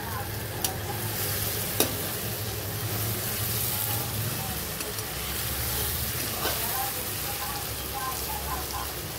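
Stuffed eggplants frying in oil in a covered pan, a continuous close crackling sizzle with a few sharp pops, steady throughout, with voices talking faintly in the background.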